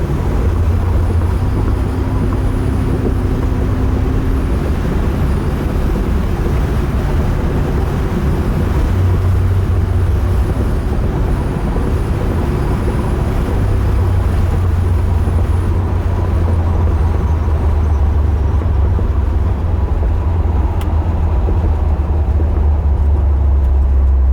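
A 1974 Chevrolet Corvette with a 454 LS4 engine and automatic transmission cruises down a bumpy road, its low, steady engine drone and road rumble continuous and fairly loud from the cabin, with no talking.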